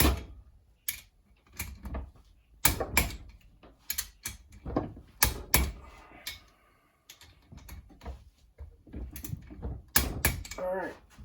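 A torque wrench clicking while engine bolts on a Honda TRX450R are torqued during an engine rebuild: a series of sharp, close clicks at an irregular pace, with a person talking between them.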